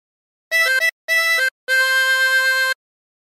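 A harmonica plays a short phrase from a song: two brief bursts of quick notes, then one long held note, clear and close with no other sound.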